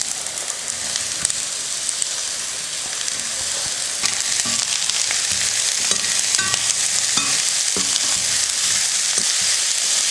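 Chopped beetroot sautés with onions in a pan, a constant close sizzle broken by the scrape and knock of a spatula stirring through the pieces.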